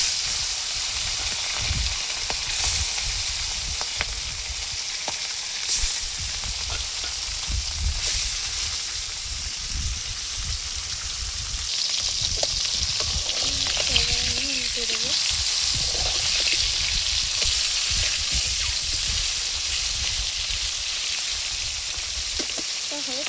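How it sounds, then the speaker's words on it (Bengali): Fish fries in hot white oil in a wok, giving a steady, loud, broadband sizzle that runs throughout with occasional brief stirring clicks. "কড়াইতে সাদা তেল দিয়ে দিয়েছি, গরম হয়ে গেছে। এবার মাছটা দিয়ে দিব।"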